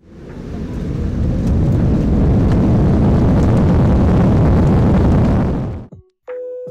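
Deep, powerful engine roar of a Vietnam Airlines Boeing 787-10 on its takeoff run, heard from inside the cabin as a loud, sustained rumble that drops away abruptly at the end.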